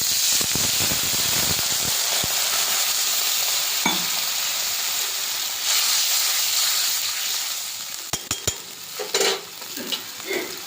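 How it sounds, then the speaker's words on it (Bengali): Water poured onto fried eggplant in a hot pan sets off a loud, steady hiss and sizzle that carries on unbroken, with a few sharp clinks of a utensil toward the end. "বেগুন লাল লাল করে ভেজে নিয়েছি, এবার জল দিয়ে দিলাম"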